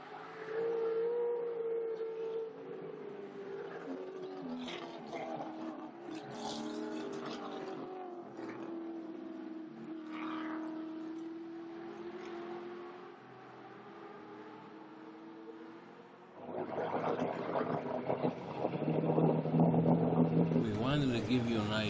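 Ford Mustang Trans Am race cars lapping a circuit, their engines droning and rising in pitch under steady commentary, with a louder, harsher burst of engine roar toward the end.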